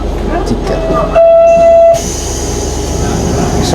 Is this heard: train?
yes